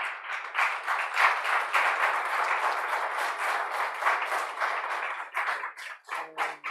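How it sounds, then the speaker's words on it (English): Sustained audience applause fills a lecture hall at IIT Kharagpur following a talk, dense steady clapping that thins into a few scattered claps near the end. "I think that deserves a very good round of applause."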